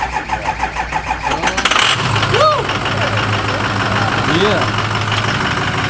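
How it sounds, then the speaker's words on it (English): A truck engine cranks in a rapid rhythmic churn for nearly two seconds, then catches and settles into a steady, close rumbling idle, with a brief voice speaking over it. "Let's see if the truck starts here."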